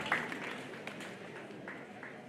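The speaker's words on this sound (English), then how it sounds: "Give them also a very good hand clap." Faint applause from the audience at a school inter-house debate competition, a soft, continuous patter of hand clapping heard from a distance.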